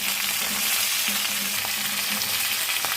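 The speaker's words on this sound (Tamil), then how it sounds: "இது கூடவே நம்ம தூதுவளையை போட்டு வதக்கிடலாம்." Thuthuvalai leaves sautéing in a hot pan for chutney, a steady close sizzle throughout with soft occasional stirring scrapes, no talking.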